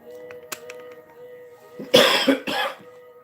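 Two harsh coughs close to the mic, one right after the other, over a quiet room hum with a few faint clicks beforehand.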